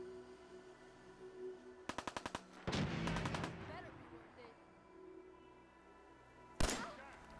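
Gunfire rings out in Fallout 4. A rapid burst of five or six shots comes first, then a heavier cluster of blasts, and a single sharp shot follows later. Quiet game ambience runs underneath.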